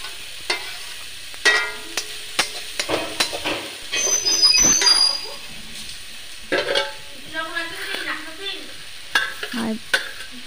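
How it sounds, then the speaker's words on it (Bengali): Finely chopped potato and bottle gourd peel frying over low heat, with soft sizzling and repeated scraping, clattering stirs of a spatula in the pan, close and intermittent. "আলুটা খুবই কুচনো, তার জন্য ভাজতে ভাজতে কিন্তু এটা সিদ্ধ হয়ে যাবে"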